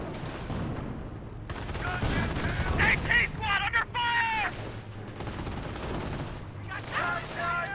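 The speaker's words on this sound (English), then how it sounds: "AT gun still firing away." An anti-tank gun fires in a Company of Heroes 1 battle between Wehrmacht and US forces, with sharp reports and bursts of gunfire that sit under a commentator's continuous talking.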